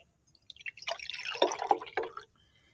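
Ordinary water poured into a glass beaker during a science lab, a short trickling splash with bubbling gurgles that swells and then stops, close by and quiet, with no voices.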